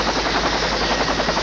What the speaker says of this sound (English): The U.S. Navy destroyer Chandler sent a helicopter, lowered a sailor to the deck, and began taking off crewmen.